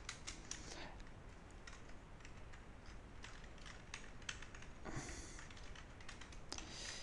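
Rapid, fairly steady computer keyboard typing as someone writes a for loop in code, with a faint background hiss and a couple of louder bursts of clacking.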